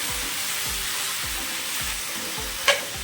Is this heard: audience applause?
no